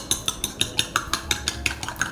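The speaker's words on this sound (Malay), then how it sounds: "kita akan pecahkan kita punya telur kat dalam ni. Sebiji, gaul sikit." Chicken bergedil mixture with a raw egg being stirred in a bowl, giving a steady run of light, regular clinks and squelches about every third of a second, close and alone.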